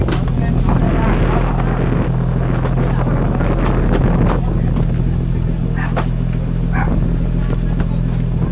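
Wind and rain rise around a fishing boat at sea: a loud, steady roar of gusting wind and rumble buffets the microphone throughout, with faint knocks and a voice briefly audible beneath.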